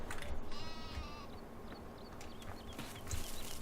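Sheep in the Farming Simulator 2015 video game bleat a few times over a low farmyard background, with one clear, close bleat near the start and fainter calls scattered after it.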